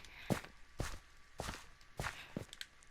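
Four distinct footsteps on clay land at a steady walking pace, each a soft, slightly gritty scuff on a firm surface, close by with no talking.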